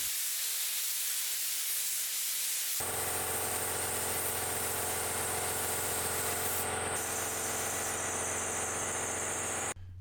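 A spray can coats a frame in black paint, its steady hiss starting abruptly and running loud and continuous, close up, before cutting off at the end.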